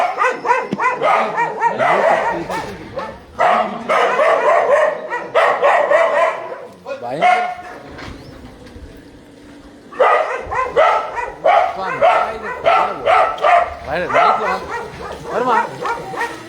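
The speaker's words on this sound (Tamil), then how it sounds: "நாய்" A dog barks in rapid, loud clusters close by, pausing briefly midway before the barking resumes, with a voice faintly underneath.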